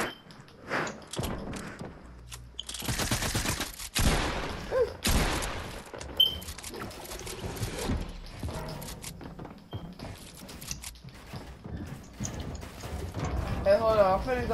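Shotgun fire in the video game Fortnite comes as loud, close blasts in irregular bursts, mixed with thuds and mechanical clicks, with voices talking over the action.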